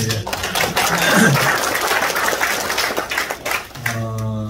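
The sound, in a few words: audience applause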